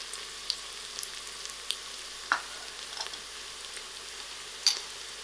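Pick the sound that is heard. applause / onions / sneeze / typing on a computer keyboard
onions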